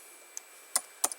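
Typing on a computer keyboard: a handful of sharp, close key clicks, one isolated tap followed by a quick cluster of three or four keystrokes against a quiet background.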